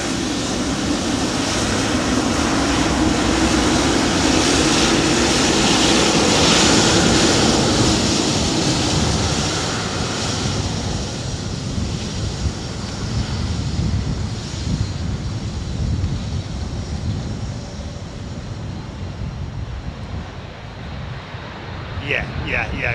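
A big Boeing 777 with heavy undercarriage passes overhead near an airport fence, a loud broadband roar that swells and then fades and thins over about twenty seconds, with wind buffeting the microphone.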